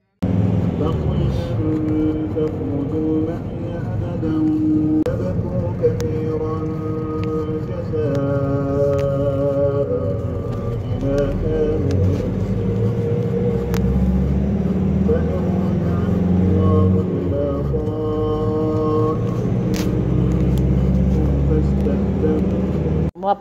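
A new car drives along a road in Saudi Arabia: a steady engine and road hum rolls continuously from the cabin, with people talking and tonal sounds over it.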